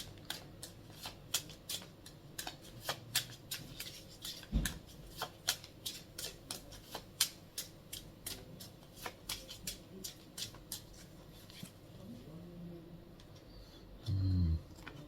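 Oracle cards from a talisman oracle deck being handled and shuffled, giving a steady run of crisp, quick flicks and riffles close by, with a brief low thump near the end and no talking.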